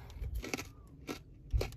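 Several crunchy bites and chews of a crackling pork roll, close to the mic, with sharp crackles spaced irregularly across a short stretch and no talking.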